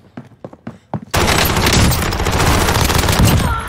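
Gunfire in a Rebirth match opens with several sharp separate shots, then breaks into a loud, sustained burst of dense rapid fire and blasts that fills the rest of the moment, close and overpowering.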